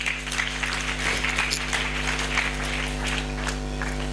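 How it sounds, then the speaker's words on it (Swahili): Church congregation clapping, a dense steady applause over a persistent low electrical hum, continuous throughout with no clear voices on top. "Piga makofi kwa Yesu."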